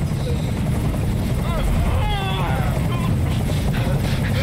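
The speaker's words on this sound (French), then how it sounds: "Je peux plus supporter ce bruit! Fais dégager cet hélicoptère, maintenant!" Helicopter hovering in the video game Detroit: Become Human, a steady loud rotor drone filling the whole stretch, with tonal game sounds rising briefly over it midway.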